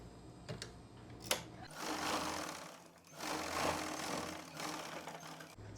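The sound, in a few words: sewing machine stitching blouse lining joint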